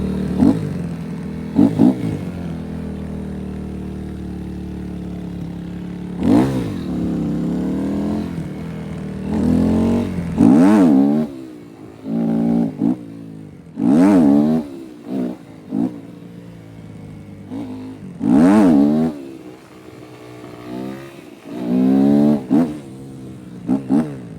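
A motorcycle engine revs in a one-handed wheelie, with sharp throttle blips rising and falling in pitch, first spaced apart and then coming in quicker bursts, loud and close between idling lulls.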